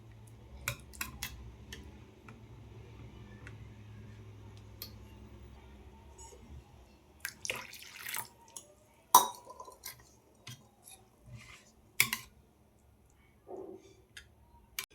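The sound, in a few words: mixing semolina with milk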